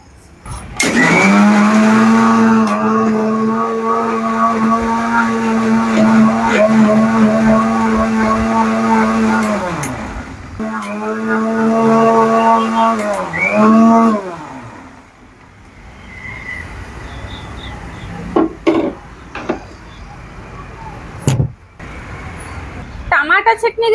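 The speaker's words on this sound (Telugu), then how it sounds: "ఇప్పుడు ఇవన్నీ మిక్సీ పట్టేయాలి ఇక" A kitchen mixie grinds tomato chutney ingredients in two loud, whining motor bursts, a long run then a shorter one, followed by quieter clatter and talking.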